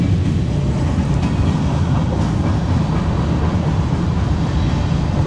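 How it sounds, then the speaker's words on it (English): Train passing close by, a loud, continuous rumble and roar with faint rail clatter, steady throughout with no talk. "there's a train right there. It's extremely loud and very annoying."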